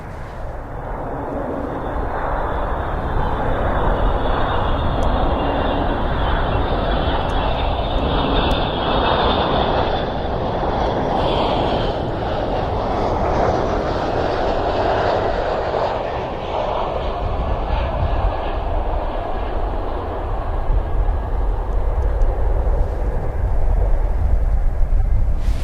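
A KC-135 jet aircraft passes over an airfield, its broad engine roar loud and sustained throughout, swelling slightly near the end with no voices over it.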